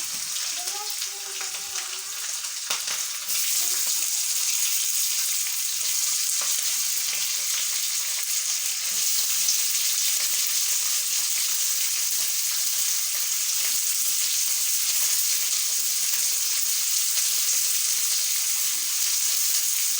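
Chilli, curry leaves and onion frying in hot oil with cumin and mustard seeds, a steady close hiss of sizzling that runs on without break, a brief stir near the start.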